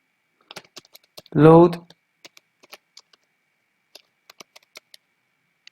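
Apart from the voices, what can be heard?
typing on a computer keyboard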